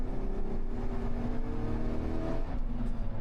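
A Chevrolet Trailblazer SS with its LS2 V8 drives along, a steady low engine drone and road noise heard from inside the cabin, continuous and fairly loud with no talk.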